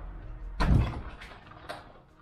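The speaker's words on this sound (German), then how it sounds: "Ich will die Tür auf." A door in an abandoned countryside inn opens with one loud thump or knock, followed by scraping creaks and a fainter second knock as it swings.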